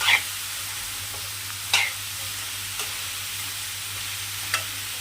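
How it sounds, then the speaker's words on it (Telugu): Cauliflower fries in a pan with a steady, soft sizzle, broken by a few sharp stirring scrapes spread through the clip and a low background hum. "చూడండి కొంచెం బాగా ఫ్రై అవ్వాలి"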